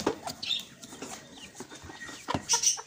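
Soft hen clucks and short chirps come in scattered bursts from hens in a carton, close by, with some rustling and a brief flutter near the end.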